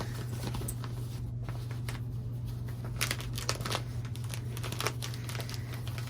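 A vinyl window pouch on a fabric project bag crinkles as it is turned inside out, a close, soft continuous rustle with a few sharper crackly bursts toward the end over a steady low hum.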